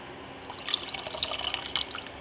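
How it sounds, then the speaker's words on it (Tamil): Strained tamarind water poured into cooked dal for sambar, a steady trickle and splash of liquid with small drips, close by and alone for about two seconds. "இதை தூக்கி அந்த பருப்பில் நம்ம ஊற்றிடணும்"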